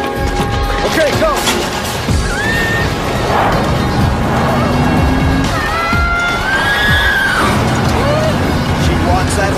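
A horse whinnies a few times amid loud commotion, with thumps and clatter nearby and people talking over it.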